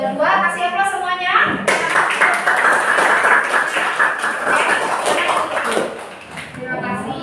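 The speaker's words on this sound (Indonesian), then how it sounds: "Mangga untuk kelompok 2 kasih aplaus semuanya" Audience in a classroom presentation breaks into sustained clapping and applause for a student group, loud and steady throughout, briefly dipping near the end before picking up again.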